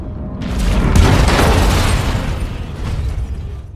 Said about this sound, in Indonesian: Anna sendiri langsung meledakkan granat di hadapan si tetangga Cat, hingga berhasil menghabisi mereka berdua.